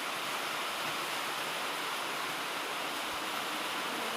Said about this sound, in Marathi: इतका पावसाचा जोर आहे की पाऊस थांबायचं नाव पण घेत नाही